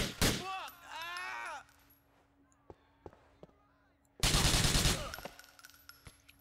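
Bursts of gunfire from Grand Theft Auto IV: a rapid volley at the start, a few isolated sharp shots, then a long loud burst of automatic fire near the end, with game sounds and voices around it.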